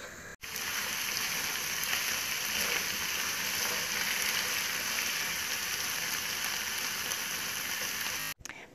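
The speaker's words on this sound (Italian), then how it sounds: "E intanto faccio saltare le rape che ho cotto, strizzato e tritato con olio, peperoncino e un pochino di aglio." Chopped, pre-cooked turnip greens sauté in a pan of oil with chili and a little garlic, giving a steady, even sizzle that holds for several seconds before briefly cutting out near the end.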